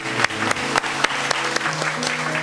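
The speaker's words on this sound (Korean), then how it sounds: "한 번 더 좋으신 하나님께 영광의 박수를 올려드리겠습니다." Church congregation clapping in praise during a worship service, a steady burst of applause with distinct sharp claps over a lingering musical tone.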